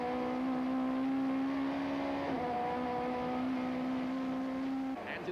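A 1994 touring car races at the East London circuit, with a steady, droning engine note at full throttle that dips in pitch once for a gear change. It sounds fairly distant and continuous, with no talking.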